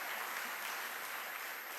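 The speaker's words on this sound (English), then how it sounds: "A big round of applause, boys and girls." Audience at a college quiz competition applauding, a brief continuous burst of many hands clapping, fairly distant and even.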